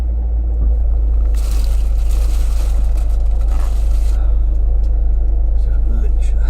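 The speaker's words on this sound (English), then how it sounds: "Traffic cam, reporting live the traffic into Forge for those entering the circuit." Steady road traffic heading into the Forge motorsport circuit on an action day, with a loud continuous engine rumble and a passing vehicle's swell in the middle, heard close from the roadside.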